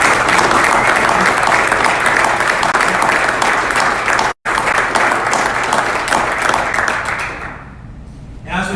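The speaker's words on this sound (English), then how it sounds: "I'd like to offer up a round of well-deserved applause for his 25 years of dedicated service to the mission" Sustained audience applause at a military change of command ceremony for the 505th Combat Training Group, loud and even clapping from a large crowd that carries on steadily, then tapers off near the end.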